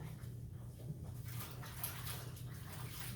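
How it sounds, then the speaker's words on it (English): Running water from a tap splashes over hands being washed at a kitchen sink, a soft, steady, fairly faint stream with small splashy fluctuations and no talking. "Wash my hands."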